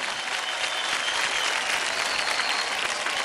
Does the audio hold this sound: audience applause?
yes